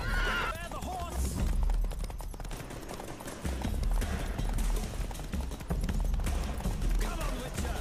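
Horses in The Witcher 3 video game whinny sharply and gallop with rapid hoofbeats, loud and close, alongside a pounding low rumble and bursts of rattling noise.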